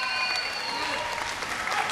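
Muay Thai crowd applauding and cheering for fighter Kaiwan Soleimani during the final round against Diesellek, a dense, steady wash of clapping and crowd noise from a packed arena.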